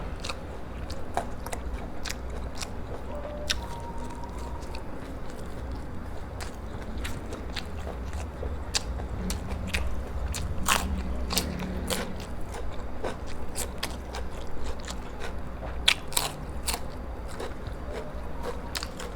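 Close, crisp crunching and biting of spicy Thai snail salad, repeated steadily for a long stretch, with a low background hum and no talking.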